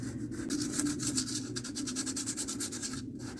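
Pastel chalk is rubbed back and forth over dry embossed paper, producing a close, steady scratchy rasp in quick repeated strokes with no talking.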